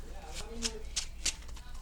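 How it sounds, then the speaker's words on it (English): A Salamangreat trading card deck is shuffled quickly by hand, making three or four crisp riffling bursts close to the microphone while someone talks quietly. "We're gonna shuffle really fast."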